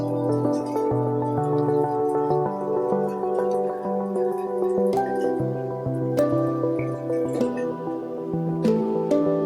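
Water, about a liter, poured into a thermos packed with pine cones, heard as liquid dripping and gurgling with a rising, filling tone as the flask fills, steady and close throughout.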